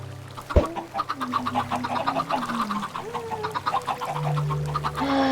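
Chickens cluck on a Minecraft chicken farm in a video game, repeated short clucks layered over one another, with a sharp click near the start and a few words of speech.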